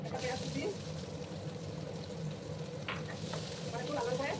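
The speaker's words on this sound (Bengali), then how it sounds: "এবার একটু লাল করে ভেজে নিতে হবে।" A bay leaf, chopped ginger and onion fry in oil in a pan, giving a steady, close sizzle with occasional stirring scrapes throughout.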